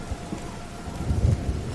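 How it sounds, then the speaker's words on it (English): Low rumble of thunder swells over a steady hiss of rain in Everybody's Gone to the Rapture, building toward a deeper roll near the end, with no speech. "More lightning. Rain starts again."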